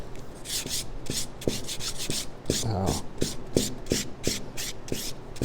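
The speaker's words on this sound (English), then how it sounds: "Now I'm going to take a little sandpaper and just start getting that sanded a little bit slick there." Sandpaper rubbed back and forth along a leather edge, a rhythmic series of close, scratchy strokes at a steady even pace, with no talking.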